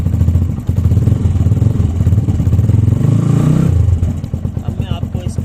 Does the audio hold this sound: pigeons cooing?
no